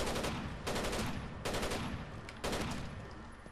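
Gunfire in Rainbow Six Vegas 2, loud close bursts of shots repeating in four rapid volleys about a second apart, with no talk over them.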